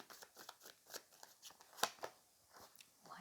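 Tarot cards being shuffled by hand, a run of soft riffling and papery slaps at an uneven rhythm, close and fairly quiet, with one sharper snap near the middle.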